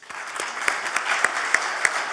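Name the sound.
audience applause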